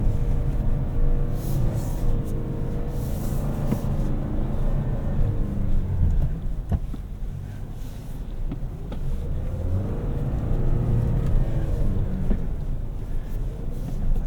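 A 2025 Toyota 4Runner TRD Off Road Premium climbs an off-road trail in 4 low, its engine holding a loud, steady low drone with gentle swells in revs and the occasional knock of the vehicle over rough ground.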